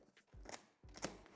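Two short snips cut through plastic packaging straps on the box of an 85-inch Samsung QN90B Neo QLED TV, close and fairly quiet, with a pause between them.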